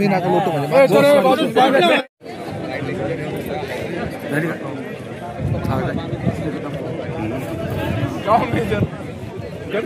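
A crowd gathered in a Kopargaon village during a leopard scare, with dense overlapping chatter and raised voices from many people close by.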